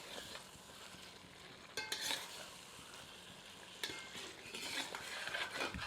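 Chicken masala frying over low heat in a copper lagan hisses quietly while a ladle stirs and scrapes the pot in a few brisk bursts, faint and unaccompanied by speech.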